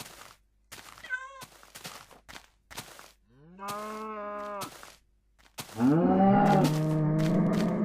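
Scattered clicks and taps, then two drawn-out cow moos from Minecraft, the second louder and longer, sounding synthetic and close.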